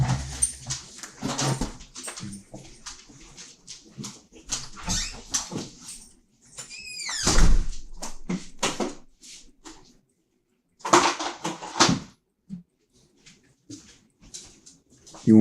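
Dogs whimper and yip in short bursts at a house door as they are let out, with scuffling, a door sound and quiet gaps between the whines; close and moderately loud.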